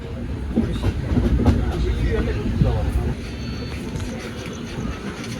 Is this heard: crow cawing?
no